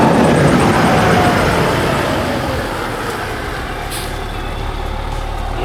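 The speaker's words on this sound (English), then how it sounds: "here comes the fire truck to respond to this fire." Fire engine (Engine 35) arriving at a fire call: a loud, steady heavy-truck engine rumble and road roar that eases slightly midway, with a faint brief hiss like an air brake, no talk.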